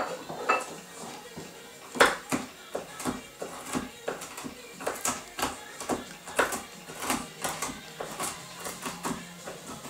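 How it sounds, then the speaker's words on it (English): A knife loosely chopping walnuts on a board for a tropical chicken salad, a steady run of sharp, fairly close taps and clacks, roughly regular, with no talk. "I've got some walnuts, so we'll just loosely chop those up."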